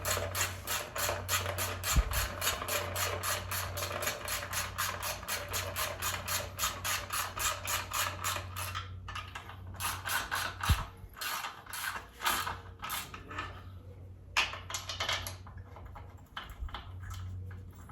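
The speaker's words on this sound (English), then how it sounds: "And then I'll just keep tightening it, spinning it." A hand ratchet tightens bolts while an engine and transmission are fitted into a 1964 Chevrolet Chevelle. Fast, continuous clicking runs close up for several seconds, then breaks into shorter, uneven bursts of clicks.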